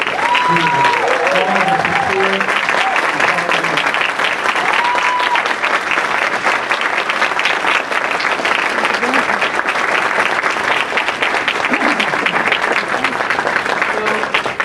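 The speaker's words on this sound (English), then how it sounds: "we want to give a round of applause to the parents" A luncheon audience at a 2017 graduation applauds the graduates' parents with loud, sustained clapping that fills the room evenly, with a few voices briefly audible near the start.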